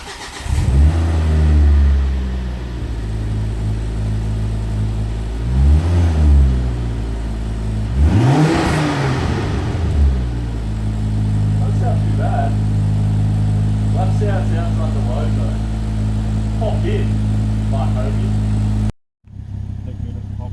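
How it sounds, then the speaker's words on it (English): A Ford XR5 Turbo fitted with a new Cobra catback exhaust cranks into life and revs hard several times, loud and close, then settles into a steady rumbling idle, with people talking nearby. "So the first startup of the new exhaust."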